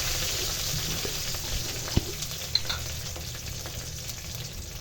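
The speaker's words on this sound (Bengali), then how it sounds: "প্রথমে একটা কড়াইতে তেল দিয়ে ভিতরে দিয়ে দিয়েছে পেঁয়াজ কুচি আর দিয়ে দেবে কয়েকটা তেজপাতা" Chopped onion and bay leaves fry in oil in a wok, giving a steady, even sizzle and hiss with a couple of faint clicks from the pan. No one speaks.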